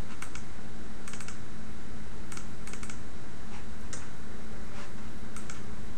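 Keys tapped on a computer keyboard in a quiet room, a few scattered clicks in short clusters over steady background hiss.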